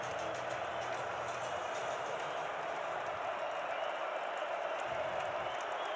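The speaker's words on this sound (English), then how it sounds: "Bison crowd that's here is roaring" A North Dakota State Bison football crowd roars in the stadium during a game against Youngstown State, a broad, steady wash of cheering noise that stays loud and even throughout.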